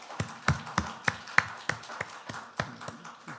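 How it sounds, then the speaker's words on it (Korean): A church congregation claps in an even, rhythmic beat to welcome a guest, about a dozen crisp claps that are soft and slightly distant, with no talking. "우리 박수로 환영하겠습니다."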